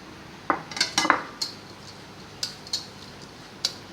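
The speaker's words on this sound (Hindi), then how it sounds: "इसको अच्छे से मिक्स करें।" A spoon clinks sharply against a bowl while chaat masala and browned onion are mixed together, giving a series of bright, close taps in uneven bursts with quiet gaps between them and no talking.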